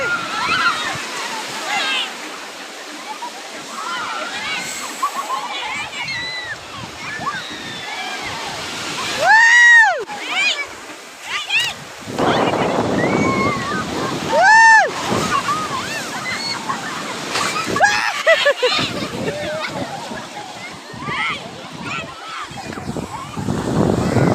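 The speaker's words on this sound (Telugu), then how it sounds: "అలలు చూడండి" Sea waves surge and crash at Kothapatnam beach in a loud, continuous wash of surf, with rolling swells rising and falling while people talk and shout nearby.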